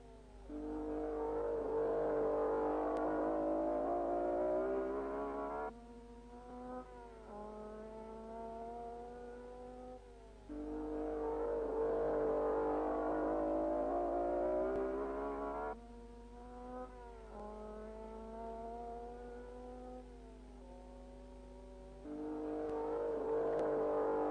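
1961 Grand Prix race cars, BRMs, Coopers and Lotuses, lap a circuit, engines droning high, then climbing through repeated gear changes in rising steps, a cycle that repeats several times at moderate volume with no voices.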